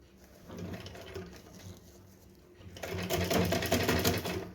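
An electric sewing machine runs steadily while stitching fabric around the waist of a small doll dress, a continuous mechanical whir that starts moderate, then grows louder and busier over the second half.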